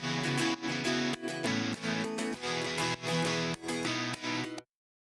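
An isolated guitar part from a produced pop song, loud and full, with rhythmic strummed chords that pause briefly between bars and then cut off abruptly into silence near the end.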